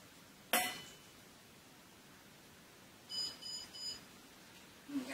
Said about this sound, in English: And there goes my thing beeping again.